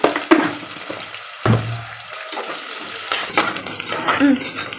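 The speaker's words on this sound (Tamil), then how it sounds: "இப்போது வெங்காயம் வந்து பார்த்திங்கன்னா நல்லா கொஞ்சமாக வதங்கி வருது" Onions sautéing in a pan for mutton biryani, a moderate sizzle broken by stirring clatter and spoon scrapes, with a brief quieter gap partway through.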